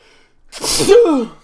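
A single loud sneeze, close by, with a sharp breathy burst and a brief voiced tail, after near silence.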